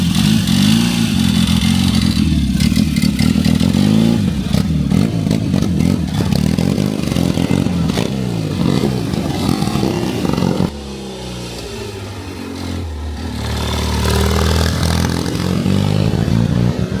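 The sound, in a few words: motorcycle accelerating hard at Prescott hill climb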